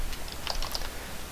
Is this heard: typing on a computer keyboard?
yes